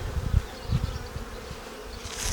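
Honeybees buzz around an opened Ukrainian-Alpine hive during a spring nest expansion, a close, steady drone with a few louder swells.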